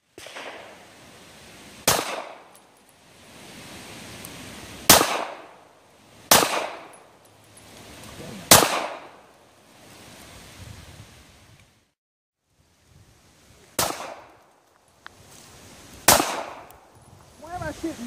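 A handgun fires Hornady Critical Defense ammunition at a shooting range: six sharp, loud reports spaced irregularly, with quieter background noise between them.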